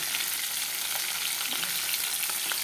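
Muri ghonto, a fish-head rice dish, fries in a pan with a dense, even, close sizzle and faint stirring scrapes, a brief continuous bed of hissing oil.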